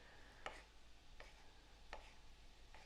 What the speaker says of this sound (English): Look at those chopping skills.